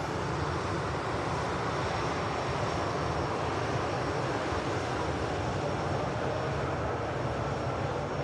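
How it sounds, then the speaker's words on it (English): Boeing Dreamliner engines spooling up at Manchester Airport, a loud, steady broadband roar holding evenly throughout with a thin high whine above it, no voices. "Looks like the Dreamliner's spooling up already."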